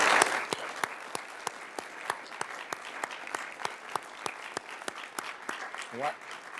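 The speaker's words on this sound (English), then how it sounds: "Can we give them a round of applause for all their hard work?" Audience applause at a city council meeting honoring award recipients, steady clapping from a crowd lasting several seconds, moderately loud and fairly close, with a brief voice near the end.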